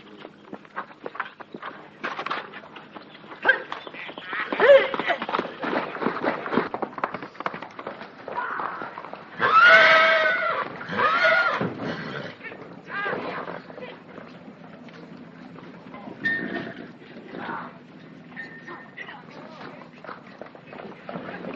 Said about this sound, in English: Good horse, Roon.